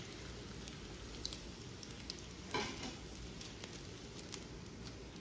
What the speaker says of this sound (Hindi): उल्टा पलटा के मैंने हर तरफ से इनको अच्छे तरीके से फ्राई कर लिए